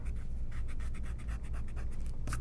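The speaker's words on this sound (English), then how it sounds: "I'm going to erase my helper lines" Pencil helper lines being erased on paper, a steady run of quick scrubbing strokes close by, with a brighter scrape near the end.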